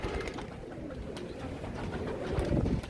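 A Royal Teddy pigeon gives a soft, low, rolling coo, close by but faint, with no one talking.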